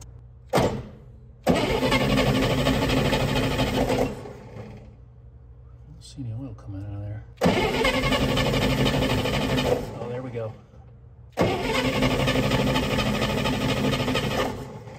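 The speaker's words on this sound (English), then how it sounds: "when we crank the engine" A turbocharged 1963 Chevrolet Corvair engine cranks and starts in three loud bursts separated by quieter gaps, each burst a steady churning roar lasting a few seconds, close by, with faint sounds in the pauses.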